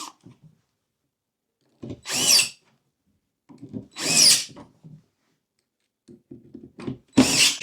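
Power drill driving screws into a fluted mid-century buffet cabinet during assembly, three short whirring bursts separated by quiet gaps with light clicks and handling noise nearby.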